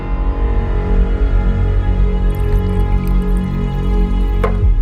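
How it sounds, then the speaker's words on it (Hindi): Water poured from a container into a glass for someone to drink, a steady close pour of liquid lasting several seconds, with a brief rising drip-like tone near the end. "एक मिनट रुको, मैं तुम्हें पानी देती हूँ।"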